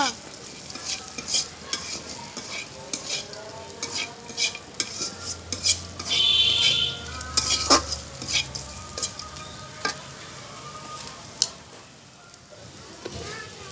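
Fried fish and fried onions stirred together in a pan, a continuous oily sizzle punctuated by repeated clinks and scrapes of the spoon against the metal, close and moderately loud.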